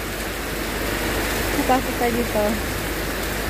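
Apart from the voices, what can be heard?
rain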